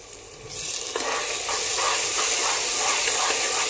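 Ground masala paste, heavy with coriander, stirred into hot oil for a Marathi chicken curry, a loud close hiss and sizzle rising after the first half second and holding steady, with faint stirring scrapes.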